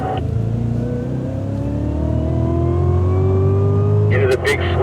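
A 2016 Cadillac CTS-V accelerates on a race track, its engine note climbing steadily from a low growl to a higher pitch, loud and close from inside the car, with a brief sharp sound near the end.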